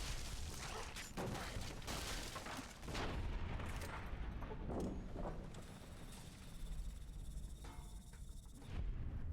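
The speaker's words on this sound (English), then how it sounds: "The beauty of shotguns ignoring defenses." Shotgun fire in Fallout: New Vegas, several fairly faint booming shots scattered among busy combat noise, spaced irregularly across the stretch.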